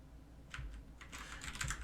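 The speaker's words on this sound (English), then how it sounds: "I don't know why my keys are lagging like that." Quiet typing on a computer keyboard with lagging keys, a few soft isolated clicks followed by a quicker cluster of keystrokes, close and faint against a low background hum.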